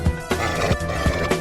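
A horse neighs in the Minecraft 1.20 snapshot, giving a short run of loud, close whinnies in quick succession.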